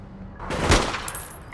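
A short burst of gunfire rings out in the video game APB Reloaded, a single loud volley peaking briefly and then fading within about a second.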